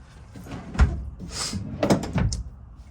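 Storage drawers in a 2022 Entegra Odyssey 24B motorhome slide open and shut, a few knocks and clunks spaced across a quiet interior.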